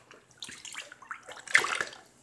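Water splashing as a pet is scrubbed in a bath, a few short irregular sloshing bursts close by, growing louder toward the end.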